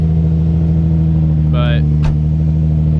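A Nissan 350Z with a Z1 single-exit exhaust idles in a steady, deep drone, loud and close, with a brief chirp and a short click partway through.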